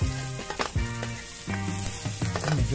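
Onions with their green leaves are being sautéed in a pan for native chicken tinola. A continuous sizzle runs under several strong tonal hums, with occasional stirring clatter.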